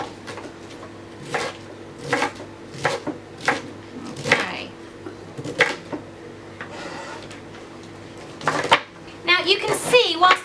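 A knife chops cabbage steadily on a board for sauerkraut, crisp thuds repeating at an uneven pace, with a voice talking quietly in between and a brief rustle.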